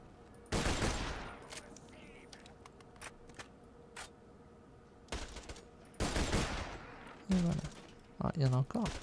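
Gunfire in the shooter Borderlands 2 comes in several loud, sharp bursts separated by quieter stretches, with someone speaking French over parts of it.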